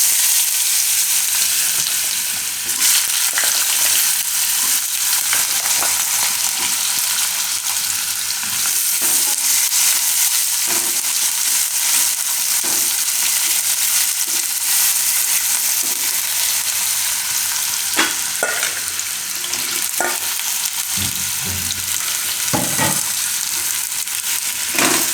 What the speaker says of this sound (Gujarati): તો તેલમાં આપણે હિંગ નાખીશું, અને બટેટા નાખીશું.